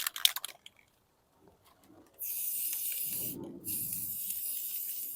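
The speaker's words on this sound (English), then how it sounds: "we're getting a little bit of a shower right now." A light rain shower starts suddenly as a steady hiss after a quiet stretch, dipping briefly before resuming, with faint clicks beforehand.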